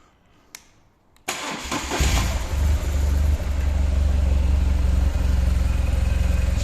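A 2008 BMW R1200 GS Adventure motorcycle on its original exhaust fires up close by after a click, catching abruptly and settling into a loud, throbbing boxer-twin idle.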